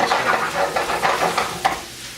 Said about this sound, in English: to saute this up, I am adding a hunk of butter into that